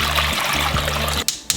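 Four cups of water pour into a pot for Mrs. Grass noodle soup, a steady close rushing splash over a low hum, briefly interrupted twice near the end.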